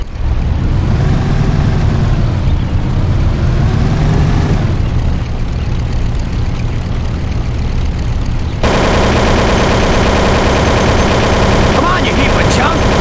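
Thompson submachine gun fire in a Mafia game car chase, rapid bursts of gunfire over a constant roaring engine and loud game noise, dense and close throughout.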